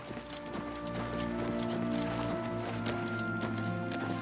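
Horse hooves clip-clop in a steady trotting rhythm in Oblivion Remastered, close and fairly loud, layered over a sustained ambient music bed with no talking.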